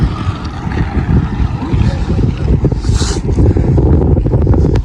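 Strong wind in Russia roars loudly and continuously across the microphone, a dense, blustery rumble with no pauses.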